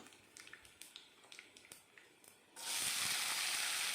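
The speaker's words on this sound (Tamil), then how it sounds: "வெங்காயம் ஓரளவுக்கு வதங்கி வரணும்" Chopped onions for wheat rava kichadi drop into a hot pan and burst into a loud, steady sizzle that continues alone, after a few light clicks and taps from the kitchen.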